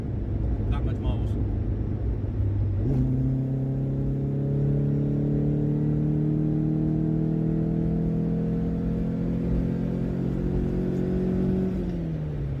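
A VW Golf Mk2 GTI 16v with Bosch K-Jetronic injection, tuned past 180 bhp, driving with a loud, close engine drone that steps up in pitch through the gears and climbs steadily before easing off, heard from inside the car.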